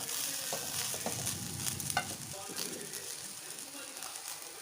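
Garlic cloves frying in hot oil in a pan while making mint chutney, a steady close crackling sizzle with occasional stirring scrapes, loudest at first and settling slightly quieter toward the end.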